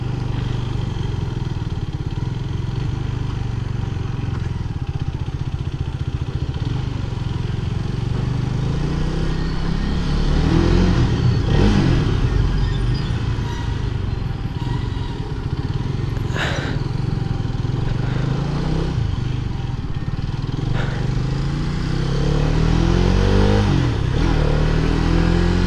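A Hero Karizma XMR 210 motorcycle engine runs steadily near the listener, with a low idle rumble and several rising revs and throttle blips, without speech.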